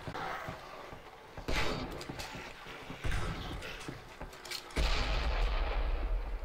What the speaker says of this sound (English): Oh, flare gun.